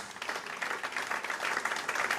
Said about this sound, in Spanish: Le dan un aplauso a Cristo, el Rey de Reyes y Señor de Señores.